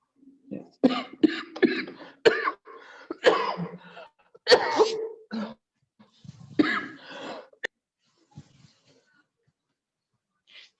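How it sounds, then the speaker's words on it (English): A person coughing repeatedly over a video call, a series of harsh bursts in irregular clusters during the first seven seconds, then near silence with a few faint sounds. "You are coughing"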